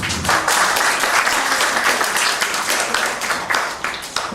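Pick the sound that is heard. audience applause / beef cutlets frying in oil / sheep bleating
audience applause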